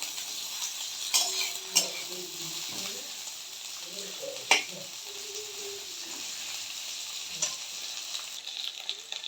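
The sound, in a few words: bitter gourd slices frying and being stirred in hot oil in a wok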